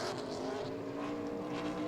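A super late model race car on a qualifying lap at New Smyrna, a distant, muffled engine roar that holds steady through a brief pass.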